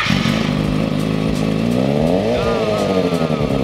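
A 2020 Kawasaki ZX6R 636 sport bike revs hard at full throttle, loud and close, its engine note climbing in pitch and holding high for several seconds.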